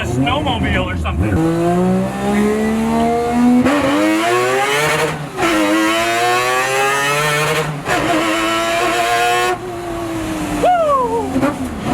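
Mazda RX7 with a 3-rotor 20B naturally aspirated rotary engine screams at high RPM, loud and close, rising and falling through several hard revving pulls with brief gear-change dips, a sharp buzzing wail under occasional talk.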